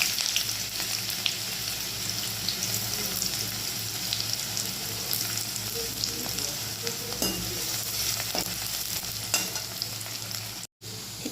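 Dried chillies and chopped onion fry in hot oil with a steady, close crackling sizzle and occasional stirring scrapes, continuous and fairly loud with no voices.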